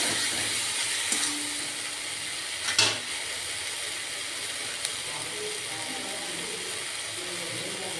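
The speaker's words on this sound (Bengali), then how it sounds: "এবার এর উপরে আমি পোস্ত আর পেঁয়াজ বাটাটা দিয়ে দেবো। এটা মশলা কাঁচা গন্ধে না যাওয়া অবধি একটু কষাবো।" Poppy seed and onion paste frying with tomato for a prawn curry, giving a steady broad sizzle throughout, with a few sharp clicks and one louder scrape of the spoon near the pan, no talking.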